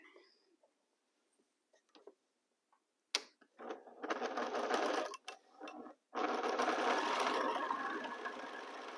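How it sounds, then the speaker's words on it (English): A sewing machine stitches rows of a quilt, starting after a few scattered clicks and handling sounds. It hums and rattles steadily in close, loud runs, breaks briefly, then resumes for a long continuous stretch. "start sewing"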